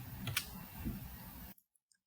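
A few sharp keypresses on a calculator or computer keyboard while a math expression is typed in, clustered in a short burst under low background noise and ending abruptly in silence.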